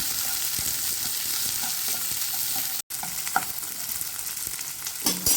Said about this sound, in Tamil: சேர்த்துட்டு வதக்கிக்கலாம்